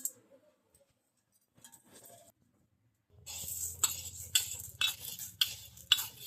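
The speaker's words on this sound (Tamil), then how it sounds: "இப்போ இந்த பருப்பை இதில் ஆட் பண்ணி நல்லா ரோஸ்ட் பண்ணிக்கலாம்" Dry lentils for idli podi are roasted in a pan over low heat, the stirring spoon scraping and clicking against the metal in quick repeated strokes after a few quiet, sparse taps at the start.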